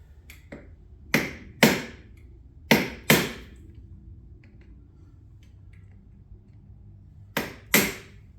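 Sharp metallic taps punching an indentation into a nut on a 2003 Suzuki Hayabusa, seven distinct strikes in loose pairs with quiet gaps between, close and clear with no talk.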